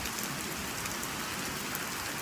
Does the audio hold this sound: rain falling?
yes